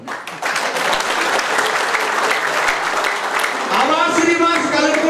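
An audience at an ADMS e-bikes business opportunity meeting applauds, with a dense, loud, continuous clapping that is joined near the end by a voice speaking over it.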